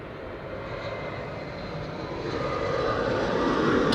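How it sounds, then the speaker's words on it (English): A KLM Embraer 175 airliner arriving at Amsterdam Schiphol gives a broad jet engine roar that swells steadily louder over a few seconds, heard at a distance with no talking. "KLM Embraer 175 is arriving"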